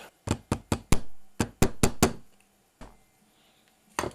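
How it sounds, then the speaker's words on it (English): A machined aluminium and brass cue holder part is tapped with about nine sharp, close knocks in quick uneven clusters, followed by a pause and two or three more taps, with nothing else heard. "I've got this to tappy tap. Tap tap tap."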